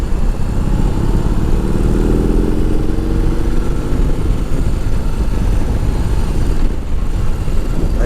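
Harley-Davidson touring motorcycle, a 2020 Police Electra Glide, riding and pulling away in fourth gear near 45 mph, a loud steady engine drone with rising pitch over heavy wind noise.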